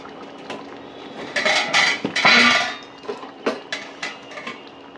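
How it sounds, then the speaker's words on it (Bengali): A lid set onto a cooking pot of date and mango-leather chutney: a quick cluster of metallic clatters and a ringing clank, then lighter taps, close and fairly loud. "একটু ঢাকা দিয়ে দিচ্ছি।"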